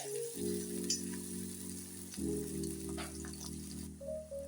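Chopped onion and garlic sauté in hot oil in a pan for chilli potato, a steady soft sizzle with a faint background hum and occasional light crackles.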